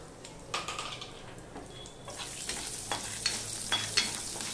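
Nigella seeds dropped into hot mustard oil for a prawn curry, giving a soft steady sizzle with a few light stirring scrapes, quiet and close, no voices.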